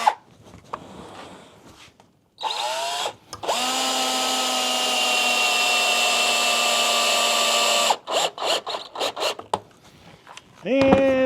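Cordless drill driving a screw into a wooden hive stand clamped tight, one steady whirring run of several seconds with a short start and trailing bursts, close and loud, with brief talk before and after.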